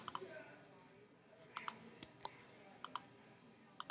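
A computer mouse clicks on a link, giving a few crisp, faint, close clicks spread across a quiet background with light desk noise.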